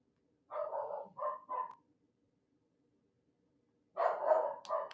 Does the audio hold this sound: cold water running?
no